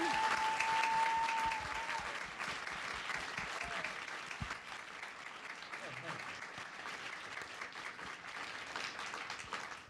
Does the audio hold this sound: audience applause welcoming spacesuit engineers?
yes